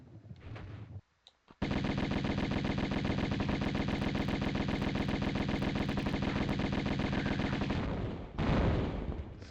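Sustained rapid-fire Uzi bursts in Tomb Raider (1996), a loud continuous rattling stream lasting several seconds, preceded by a few isolated shots and followed by a heavy thud.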